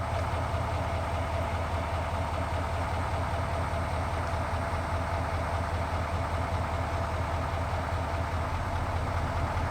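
A 2020 GMC Sierra AT4 truck engine idles with cylinder 1 disabled, giving a steady, continuous drone with a dense, even rumble and no speech.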